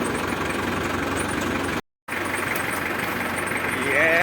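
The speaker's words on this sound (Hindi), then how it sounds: "ये हमारी जो हो रही है यहाँ पे ट्रैक्टर की सवारी हो रही है" A tractor engine runs steadily throughout a ride, a constant mid-low drone heard up close, with a short cut to silence partway and people talking over it.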